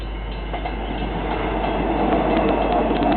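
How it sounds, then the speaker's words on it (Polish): A steady rumble of a train to Armadale passing through Carlisle station in Perth, Western Australia, without stopping, with rhythmic wheel clatter, continuous and moderately close. "Przejechał właśnie pociąg do Armadale."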